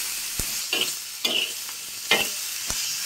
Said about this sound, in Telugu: ఇప్పుడు ఒక చెంచాతోటి కలుపుకుందాం